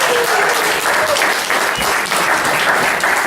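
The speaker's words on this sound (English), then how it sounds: "Give a round of applause, thank you." Steady, dense applause from an audience fills the whole stretch at an even, loud level, with no pause and only slight swells.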